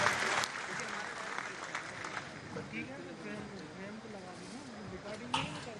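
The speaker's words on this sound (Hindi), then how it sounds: "जोरदार तालियों से पुनः अभिनंदन करें माननीय महामंत्री भारतीय मजदूर संघ" An audience at a state-level guest scholars' conference in Bhopal claps to welcome the general secretary of Bharatiya Mazdoor Sangh, a burst of applause that fades into lighter clapping while a voice carries on over a public address.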